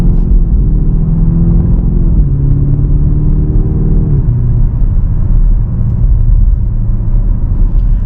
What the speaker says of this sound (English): The V8 sounds incredible.